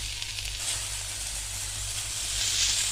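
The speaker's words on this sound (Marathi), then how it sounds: "हा कांदा जो आहे तो थोडंसं तेल अगदी एक दोन चमचे तेल टाकायचं आहे आणि परतायचा आहे थोडा सोनेरी होईपर्यंतच परतायचा आहे" Chopped onion sautéing in a spoonful or two of oil in a pan, a steady close sizzle and hiss that holds throughout and swells slightly near the end, with no talking.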